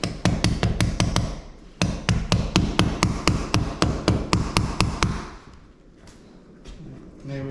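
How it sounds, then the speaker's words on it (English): A hammer taps on drywall while a ceiling fan light is mounted in a condo: a fast, steady run of close, sharp taps, a brief pause, a second run, then a fade to quiet. "You want your hammer?"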